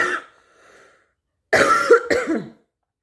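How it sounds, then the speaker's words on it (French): A woman coughs alone indoors: one short cough, a pause with a faint breath, then two harsh coughs in quick succession, close and fairly loud. "Ça faisait longtemps que j'avais pas toussé en vidéo."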